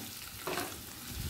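Paneer fries lightly in oil in a karahi, with a gentle continuous sizzle and a brief louder burst of stirring near the middle; no one talks.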